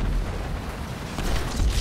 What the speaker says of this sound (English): it was an airstrike that hit me before